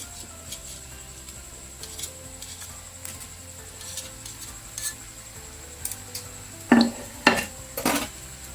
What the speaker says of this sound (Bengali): এইভাবে একটু মাঝে মাঝে নেড়ে দেবেন, লাল হয়ে